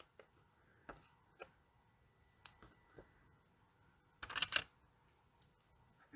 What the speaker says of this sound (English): I'm actually going to snip 1 in half.